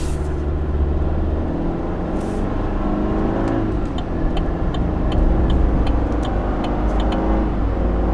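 A 2022 Chevy Silverado pickup truck, run with the air conditioning off, accelerates moderately from inside the cab, a steady low engine drone and road rumble rising slightly over eight seconds, with faint ticking clicks on top.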